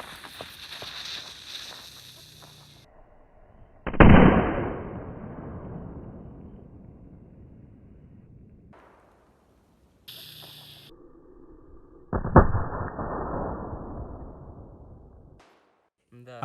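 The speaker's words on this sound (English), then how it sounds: "A powerful explosion has occurred." Two sharp firecracker blasts go off a few seconds apart, each a loud crack followed by a long fading rumble, destroying a scale model Mercedes W140 set on a road; other sounds are heard in the pauses between blasts.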